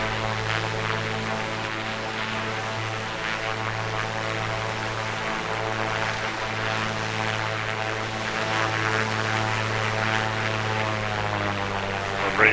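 A simulated Piper Comanche 250 propeller plane flies over an airport in Microsoft Flight Simulator 2024, a steady, loud engine drone with a constant low propeller hum throughout, no talking.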